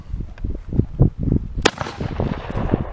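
A Benelli Supernova Tactical shotgun fires eight-pellet double-aught buckshot at a helmet from about five or six yards, a single sharp, loud blast mid-clip with ringing decay, set among other outdoor bangs and thumps.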